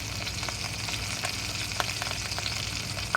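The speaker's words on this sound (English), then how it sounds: "We got our hot links cooking. Let's show you those." Hot links for po' boys sizzle and crackle steadily in a hot pan, a dense continuous fry with scattered sharper pops, close and alone without talk.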